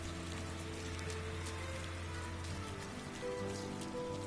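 Rain in the video game Rime makes a faint, even patter that continues without a break beneath sustained, low musical tones.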